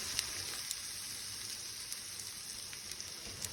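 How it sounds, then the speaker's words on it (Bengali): Topshe fish frying in a pan, a steady, fairly quiet hiss of sizzling oil with occasional small pops, heard alone. "এইভাবে আমি একটা একটা করে মাছ ভেজে নেব।"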